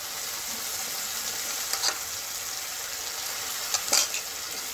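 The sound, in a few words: mustard paste added to frying tomatoes, sizzling in pan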